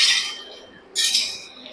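A metal pot lid clinks down onto a pan of cooking greens with stalks, potato and poppy seed: two bright, close clanks a second apart over near silence.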